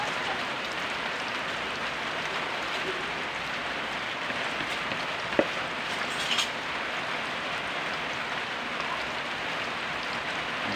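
Steady rain falls outside a home kitchen, a dense, even hiss of drops on surfaces that continues unbroken throughout, with one brief tap or knock partway through and no talk over it.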